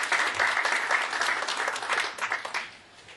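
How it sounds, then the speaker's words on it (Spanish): Audience applause welcomes a panel speaker at a talk on libraries and copyright. The clapping is dense and steady for about three seconds, then tapers off at the end. "Recibamos al licenciado Espinal con un aplauso"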